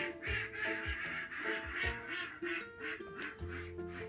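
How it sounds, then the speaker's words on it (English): Several ducks quacking in short, repeated bursts amid a lively outdoor chorus of other birds, fairly close and steady throughout. "And here the ducks are really happy as well."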